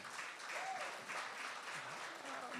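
Steady applause from a conference audience, a soft continuous patter of clapping heard from some distance.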